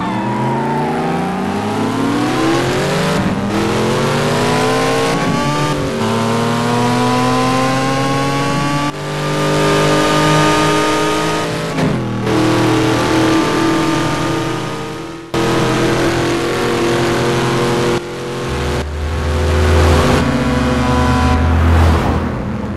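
Engines of a Mazda RX7 and a Ford Mustang GT racing in a desert drag race, revving and accelerating in repeated rising, whining sweeps, loud and continuous with no talking.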